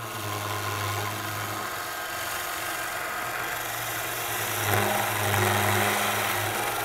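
A skew chisel cuts sycamore on a Coronet Herald woodturning lathe, a faint, steady hiss of shaving over the lathe's constant low motor hum, rising slightly near the end.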